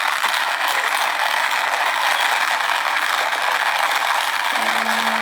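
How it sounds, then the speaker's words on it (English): A manual travel coffee bean grinder is cranked by hand, making a loud, steady ratcheting grind that runs without pause, with a brief tonal squeak near the end. "So I'm going to go ahead and crank a little bit more here."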